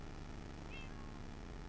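A short, faint cat meow taunt sounds from a Minecraft Mineplex Block Hunt match, a single high mew partway through over a steady background hum, with no voices.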